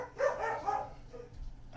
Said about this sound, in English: The fun of having an old grumpy ass dog. He barks at everything.